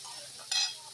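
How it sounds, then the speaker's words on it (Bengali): Mixed ground spices sautéed in a hot pan with oil, a soft sizzle under a brief scrape of stirring that gives a short, louder hiss midway. "এই দেখুন বন্ধুরা প্রায় মশলাগুলো কষা হয়ে এসছে"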